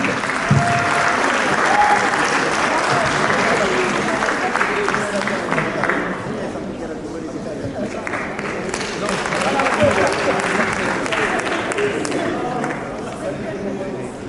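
Warm audience applause welcoming an artist at an African diaspora event in France, sustained clapping mixed with crowd chatter and cheering, swelling midway and continuing to the end.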